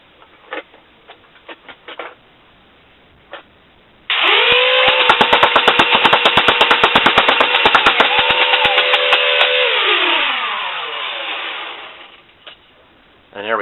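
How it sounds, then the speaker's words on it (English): A Vulcan belt-fed foam blaster fires a long burst through a 25-round belt, a loud motor whine with a rapid ratcheting rattle of shots for about six seconds, then spins down, with a few clicks before and after. "we're going to do a rate of fire test on Kevin's Vulcan."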